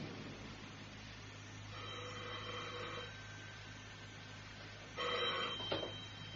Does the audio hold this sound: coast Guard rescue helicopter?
no